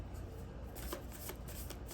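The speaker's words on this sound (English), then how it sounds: "Just in case you don't want to watch the shuffling." A deck of playing cards is shuffled close by, a continuous soft riffling rustle with faint repeated snaps, steady and alone without talk.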